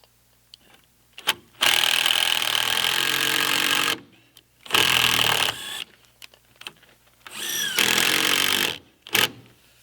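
A power driver sinks 3.5-inch Torx-head ceramic-coated screws into wood, with several loud sustained whirring bursts separated by short pauses and sharp clicks, close up.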